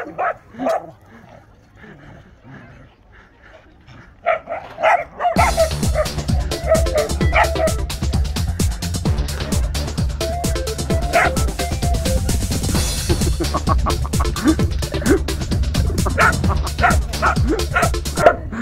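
Whippets and Italian greyhounds bark and yip repeatedly, first sparse and quieter, then a loud, busy stretch of barking over a noisy background, with a person talking at times.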